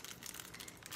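Crinkly plastic packaging being handled and opened, a continuous close rustle and crackle for about a second.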